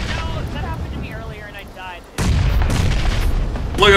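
Grenade blasts in the zombies mode of the PUBG shooter game: a loud broadband boom hits about halfway through and rumbles on, with another burst near the end, while voices talk over the fight.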